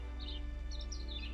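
Faint bird chirps behind vines, a few short high tweets scattered over a steady low hum, quiet and brief.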